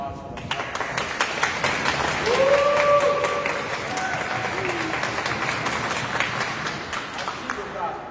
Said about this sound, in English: So if we can hear another round of applause for them.